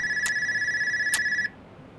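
A telephone rings with a steady electronic tone broken by two brief pulses, loud and close, then cuts off abruptly partway through.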